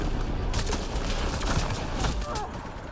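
Shotgun blasts fire in the sci-fi shooter Mass Effect: Andromeda, several sharp, loud bursts in quick succession over about three seconds, set against a dense wash of combat noise.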